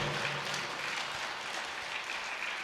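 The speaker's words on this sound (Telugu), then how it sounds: "గట్టిగా చప్పట్లు కొడదాం గడిచిన 6 సంవత్సరాలకు గట్టిగా." An audience claps together in a sustained, even wash of applause that sounds fairly soft and distant, with no voices rising above it.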